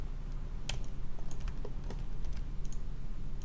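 Rapid keystrokes on a computer keyboard while working in the Modo 3D program, scattered clicks with a short burst at the Z key, close and clear over a steady low hum, with no talk.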